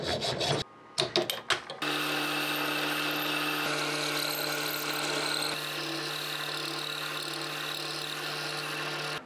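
A small metal part from a video recorder head being trimmed and bored on a lathe, giving a steady, loud machining whine with a constant motor hum after a few short starting knocks.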